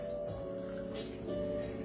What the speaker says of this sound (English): We're going to pour.